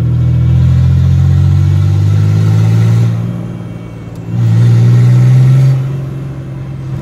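A turbocharged 4.3 Chevy S10 pulls up a hill, its engine droning loud and close, easing off near the middle and then surging again as it accelerates.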